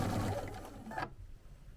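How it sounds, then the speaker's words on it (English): A sewing machine stitches Chenille-It binding along a scalloped quilt edge, a quick steady whirring run that stops abruptly about a second in, leaving quiet room tone. "So I'm just taking my time sewing it down."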